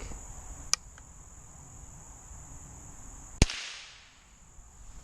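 A sharp, sudden shot from a Henry lever-action rifle cracks once amid quiet outdoor ambience with a steady insect-like hiss, followed by a brief fading tail.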